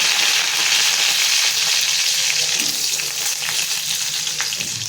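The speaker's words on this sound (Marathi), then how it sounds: "ते टाकून तेलामध्ये परतून घेऊयात आपण" Crushed garlic and a slit green chili sizzle in hot oil in a home kitchen, a loud, steady frying hiss throughout with occasional faint stirring sounds and no talking.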